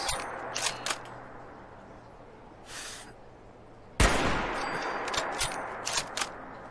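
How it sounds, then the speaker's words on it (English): Sniper rifle shots in a video game ring out as sharp, close cracks: two early, a heavy blast near the middle followed by a dense noisy stretch, then several more quick reports. "wanted to just incorporate some sniper shots"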